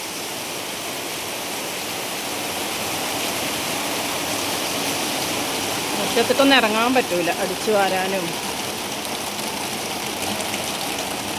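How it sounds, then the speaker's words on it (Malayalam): Heavy rain pours steadily as a dense, constant hiss, with a person talking briefly partway through. "നല്ല മഴ ഇവിടെ"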